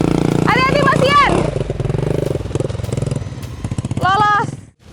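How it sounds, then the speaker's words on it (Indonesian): Motorcycle engine revving hard as it pushes through deep mud on a rural Indonesian road, loud and close with bursts of throttle, with people talking over it. "Wih gila, motor berenang."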